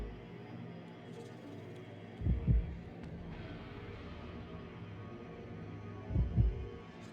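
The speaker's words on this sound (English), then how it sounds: "I guess that means the heartbeat we're hearing is our own." Low, muffled heartbeat thumps from the video game Baroque, arriving in two separated double-beat pairs over a steady low hum with no voices.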